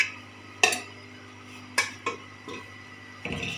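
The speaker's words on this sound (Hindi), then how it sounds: "मिक्स करेंगे अच्छी तरीके से।" Utensils clink against a pan while a dish of potatoes and taro root is stirred and mixed, with a few distinct sharp knocks spread out and quiet between them.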